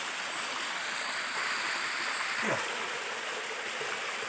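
Steady rushing wash of a fairly tall waterfall at night, a constant broadband roar heard close, with one brief faint sweeping sound partway through and no talking.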